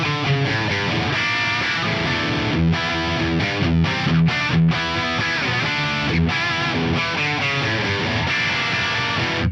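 Heavily distorted electric guitar through a Friedman BE C45 amp model, playing tight palm-muted riffs with short rhythmic gaps and sustained chords, loud and upfront throughout.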